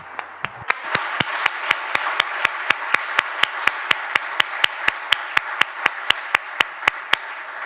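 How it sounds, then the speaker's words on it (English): A seminar audience in Mataró applauds: a steady wash of clapping with sharp, evenly spaced claps beating through it like a rhythmic ovation, sustained and fairly loud throughout. "Extended thanks and a warm round of applause"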